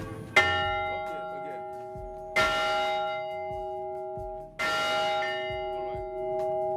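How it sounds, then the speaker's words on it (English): A large bell at a former slave plantation rung three times in slow succession, each loud clang ringing out with a long sustained hum that lingers between strikes. "Can you ring that bell here?"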